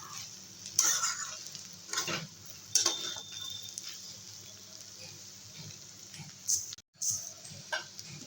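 Bitter gourd and fish roe fry in a pan over a gas flame while a utensil stirs, with repeated scraping strokes and clinks over a soft, steady sizzle, close by with no talking.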